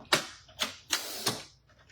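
A paper trimmer slices through cardstock with four quick, crisp cutting strokes in a steady rhythm, close and fairly quiet, the sounds fading toward the end.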